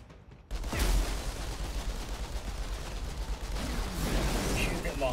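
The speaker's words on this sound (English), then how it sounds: "Shooting at my homie down there?" Sustained gunfire in the Outriders game, a dense, continuous rattle of shots that starts abruptly and keeps going, with a player speaking over it.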